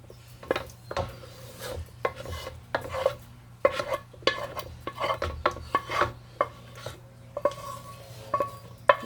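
Wooden utensil scrapes and pushes sliced potatoes for scalloped potatoes across a baking dish, a string of close, uneven rubbing strokes and soft knocks with short pauses between them.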